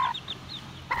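A rooster gives a few quick, soft clucks nearby, quiet and close, ending with a slightly louder call.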